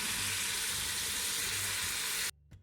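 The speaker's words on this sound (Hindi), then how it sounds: "अब हम इसके अंदर डालेंगे जो हमने स्लाइसिस में कटे की हुई आलू" Sliced potatoes dropped into a pan of frying masala, giving a loud, steady sizzle that stops abruptly near the end, followed by a faint clink.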